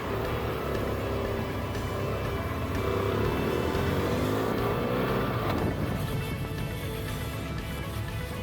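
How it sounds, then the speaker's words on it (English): A BMW F800GT motorcycle engine runs steadily on the road, a loud continuous drone with a gentle shift in pitch partway through, no voices over it. "The engine runs smooth, pulls cleanly, and everything feels exactly as it should."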